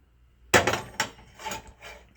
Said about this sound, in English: starts with butter. Slap it in. That pan is hot.